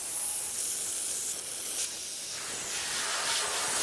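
A spray paint can hisses continuously up close in a light dusting pass, a bright airy spray that dips briefly and then resumes at an even level.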